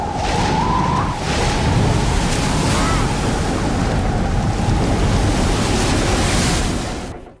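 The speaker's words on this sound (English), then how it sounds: "the crashing thunder, the wind, the rain, and you've got an incredible storm scene" Steady, roaring film storm effect of thunder, wind and driving rain fills the whole stretch, loud and broadband, with a faint rising whistle near the start and no voices.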